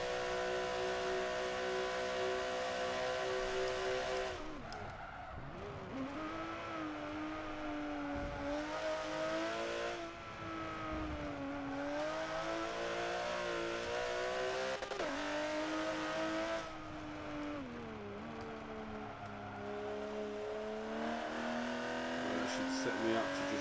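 Race car in Forza 7 lapping hard, its engine loud and continuous with rising and falling revs through gear shifts and corners, a constant close roar across the whole lap.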